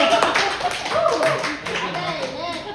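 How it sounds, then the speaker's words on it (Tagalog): Steady, dense applause from a small audience at a Valentine's Day gathering in Canada, many hands clapping close by for the full few seconds while voices chatter and call out underneath. "Palakpak!"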